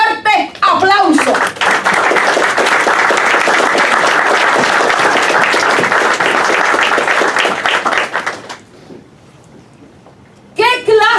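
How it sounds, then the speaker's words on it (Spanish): A church congregation gives loud, dense applause for about seven seconds, many hands clapping together close by before dying away. A voice speaks briefly at the start and again at the end. "Dense un fuerte aplauso."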